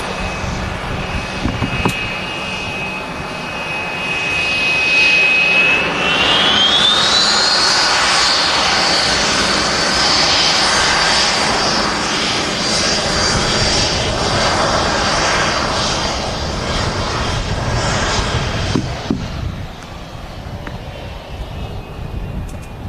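A Loganair Embraer E145 regional jet at Manchester Airport roars loudly and steadily, its rising engine whine swelling as it passes before easing off near the end.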